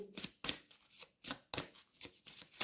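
Tarot cards are shuffled and handled in a run of quick, papery riffling bursts separated by short pauses, close and fairly soft, with no talking.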